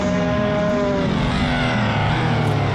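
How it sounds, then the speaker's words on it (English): Race cars in the video game Assetto Corsa scream around the Laguna Seca circuit in an online IMSA-style race, a loud continuous engine whine with shifting pitch as cars pass, without talk. "as we hear these cars scream around here"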